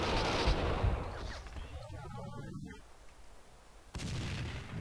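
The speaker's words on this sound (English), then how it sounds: "Oh shit, fucking grenade." A grenade blast in the shooter game Max Payne 2, a loud burst of gunfire-like booming and crackle filling the scene, fading into quieter rumble before another loud burst returns; someone talks over parts of it.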